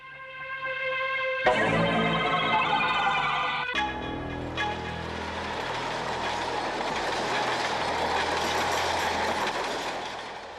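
A train rolls through Andheri station in Mumbai, a loud rumbling passage with a horn-like tonal blast at the start, then steady clattering wheels and rushing noise that stays close and continuous throughout.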